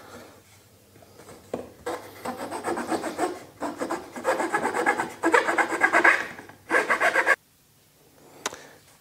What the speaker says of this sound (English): I'm just gonna use files to bring everything to the final shape